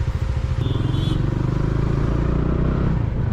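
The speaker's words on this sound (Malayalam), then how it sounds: "ഭയങ്കര ബഹളമാണ് വണ്ടിയുടെയൊക്കെ ഓണടിയും ഭയങ്കര ബഹളമാണ്" Heavy traffic noise in Kodaikanal, heard up close from a Bajaj Dominar motorcycle, with a loud, steady engine drone throughout and a brief vehicle horn sounding early on.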